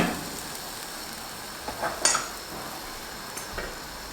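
Zucchini batter pancake frying in a pan over a lowered flame, a steady soft sizzle throughout with a few light clicks and scrapes from a utensil.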